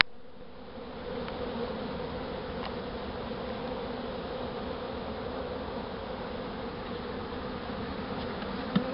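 A swarm of honeybees hums in a steady, dense drone around a swarm-catching box, close and even throughout, with a few faint clicks and no voices.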